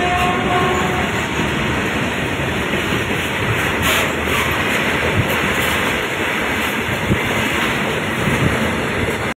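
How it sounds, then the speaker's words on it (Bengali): A passenger train rolls along its rails during a journey in Kerala, a loud, steady rumble and rattle of the carriages running without a break for the whole stretch, with no voices. "আমাদের ট্রেন ছেড়ে দিয়েছে।"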